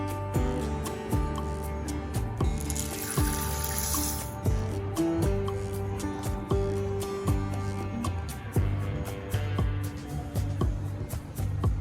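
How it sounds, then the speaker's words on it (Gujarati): Tap water runs continuously into a bowl as toor dal is rinsed by hand, with splashing, sloshing and light clinking over a steady stream; no one speaks. "તો આ રીતના આપણે 2 થી 3 પાણીએ વોશ કરી લઈશું"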